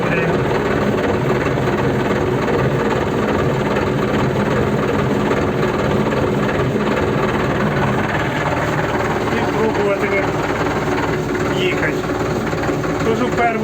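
The diesel engine of a Solis RX50 tractor runs steadily with its hydraulic drive engaged during pumpkin windrowing in a field, a loud continuous low rumble throughout.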